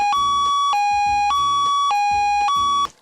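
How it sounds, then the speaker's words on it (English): An emergency siren in high-low mode swaps between two steady pitches about every 0.6 seconds, loud and close with no other sound, and cuts off sharply at the end. "the fourth type of siren sound, which is known as high-low"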